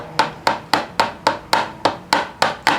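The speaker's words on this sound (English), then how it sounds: "we'll just tap this again. Just light taps, because you don't want to lose that roll pin." A hammer gives about eleven light, evenly spaced taps on a roll pin in the vent window of a 1973–87 Chevrolet C10 squarebody truck, crisp and close with no talk.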